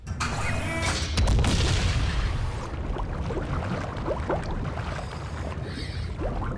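Net torpedoes launched in an animated undersea adventure, a loud booming whoosh near the start followed by rushing underwater rumble and scattered bubbly crackles.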